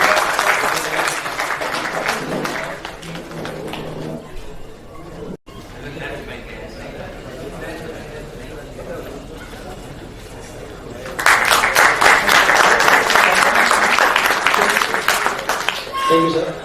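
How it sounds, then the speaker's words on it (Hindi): Loud audience applause fills a hall at a JEE Advanced 2023 toppers' felicitation ceremony as a student walks up for a prize, with chatter between two strong bursts of clapping. "जोरदार तालियों के साथ स्वागत किया बच्चे का"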